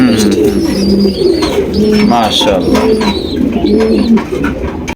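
A pair of Sirazi pigeons with their young coo repeatedly close by in soft rolling phrases, while a voice speaks briefly over them.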